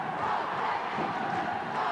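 Ice hockey crowd behind the Fife Flyers' goal at a 1985 game against Dundee Rockets roars in a dense, continuous wash of cheering and chanting, loud and distant-sounding, with no break.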